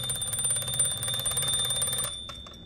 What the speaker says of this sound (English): the alarm goes off, rings the bell